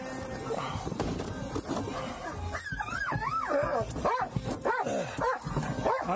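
A dog barks and whimpers, rising whines and yips, amid shouting and talk at a police scene by a DUI crash.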